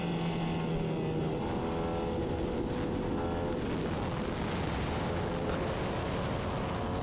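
SCCA Formula Vee race car at New Hampshire Motor Speedway accelerating out of a corner, its engine heard faint and steady as a rising buzzing drone under wind noise.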